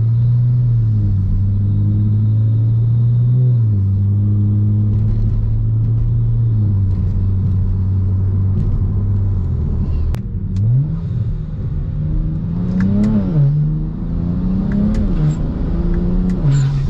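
BMW 335i automatic accelerating, engine rumble climbing steadily in pitch, dropping at a quick gear shift, then rising again, heard from inside the car without talking.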